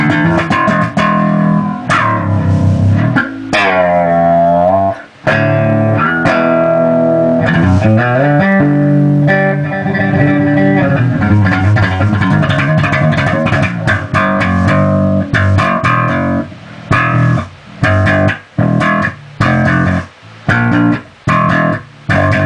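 A clean, dry bass guitar played direct into an amp with no EQ plays a busy line of plucked notes and slides, loud and upfront with no effects.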